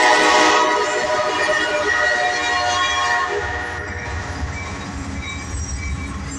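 A southbound CSX autorack freight train rumbles past close by, its horn sounding in sustained harmonic blasts over heavy wheel and rail noise that eases slightly as the cars roll on.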